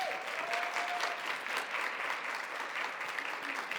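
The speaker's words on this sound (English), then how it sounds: "So I think you deserve a hand of applause." Steady audience applause at a summit keynote conversation, an even, sustained wash of many hands clapping at moderate distance with no voices on top.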